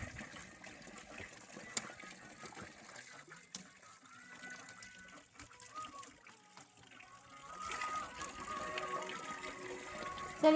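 Water from the Panchganga mountain stream in a Himalayan meadow on the Rudranath trek trickles and splashes as it is collected, a soft running burble that grows louder toward the end, with low voices around it.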